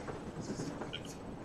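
A train running in the game Trans-Siberian Legends: a steady low rumble and rattle that holds throughout the short stretch, with a voice talking over it.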